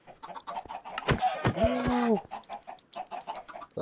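Chickens clucking inside a Minecraft modded chicken cooker, a cluster of short bird squawks and clucks with a few drawn-out calls in the middle, close and clear against quiet surroundings.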